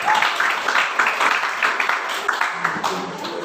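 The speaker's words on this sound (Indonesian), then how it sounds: "Oke, tepuk tangan dulu semua" A class of students applauding together, a steady patter of many hands clapping that gradually softens, with faint voices underneath.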